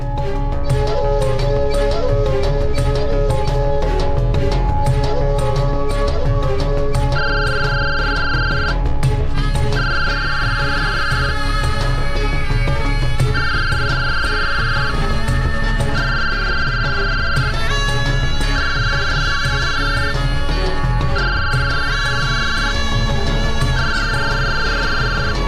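A phone ringtone sounds in a Marathi TV serial scene. A repeating high electronic melody rings in regular bursts over continuous background music, with no speech.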